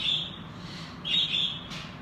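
A Eurasian eagle-owl gives harsh, raspy screeching calls in the background, two or three faint squawks spread over a steady room hiss.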